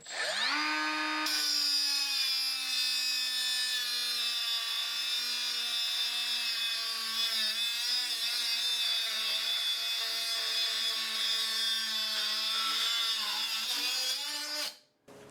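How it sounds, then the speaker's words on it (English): A Milwaukee M12 Fuel cut-off tool with an abrasive wheel slices through a piece of 3/8 inch rebar, a loud continuous high-pitched grinding shriek held steady for about fourteen seconds, then winding down as the cut finishes. "So here's a piece of 3/8 inch rebar. Let's try cutting."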